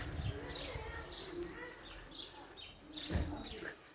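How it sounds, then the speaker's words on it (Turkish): Birds chirping outdoors, with scattered high tweets repeating over steady background noise and faint footsteps or movement nearby. "Cıvıl cıvıl kuş sesleri"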